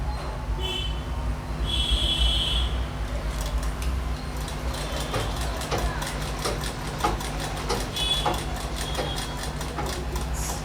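A sewing machine stitches chudithar pant fabric in short runs of rapid mechanical ticking, with a low motor hum and a few pauses between bursts.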